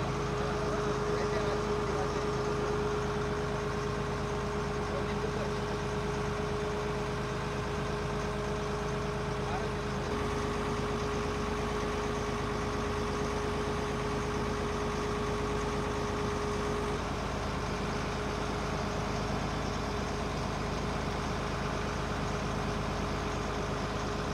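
A fishing boat engine drones steadily at close range out at sea, with a constant hum and a faint tonal whine throughout.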